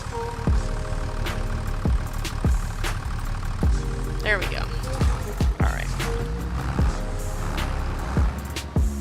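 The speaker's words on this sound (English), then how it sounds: "Back to zoomed out for the loud tractor, back to getting on the road towards field 56." A loud tractor engine in the Farming Simulator video game rumbles steadily at idle and low speed, with sharp periodic clicks over it, while a person talks briefly.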